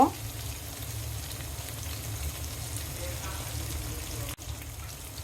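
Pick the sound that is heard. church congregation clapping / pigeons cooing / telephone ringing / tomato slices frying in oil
tomato slices frying in oil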